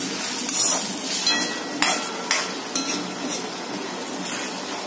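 Tomatoes frying in a pan for misal pav, a constant hissing sizzle with several scraping, clinking strokes of a spoon stirring through them, close and steady.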